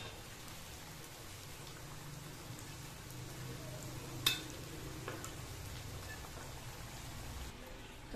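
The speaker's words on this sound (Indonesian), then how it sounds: "Tempenya masih goreng." Soft, steady crackling sizzle of tempeh frying in oil, with one brief sharp clatter partway through.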